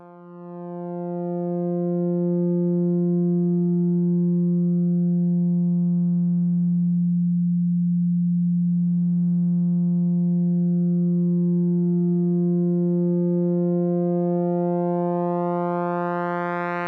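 A steady synthesized sine-pulse-width oscillator tone from the Absynth 5 software synth, loud and sustained, with its bright upper harmonics thinning toward the middle and then sweeping back up toward the end.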